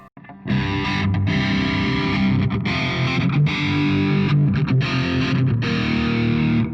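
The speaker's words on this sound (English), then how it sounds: "what we are doing is we are applying flanger and delay to the distortion" A heavily distorted electric guitar rings out with a sweeping, whooshing flanger and echoing delay, sustained chords played loud and continuous.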